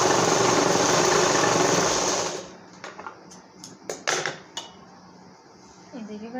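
A sewing machine stitching a folded blouse strip runs in a dense, steady whir for about two seconds, then stops. Scattered light clicks and handling taps follow in the quieter stretch.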